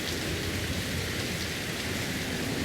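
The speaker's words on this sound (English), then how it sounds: "Yeah, I really wish this rain would clear up." Steady rain pours in the game Fallout: London, a dense continuous hiss with a low rumble underneath, constant and enveloping with no voices.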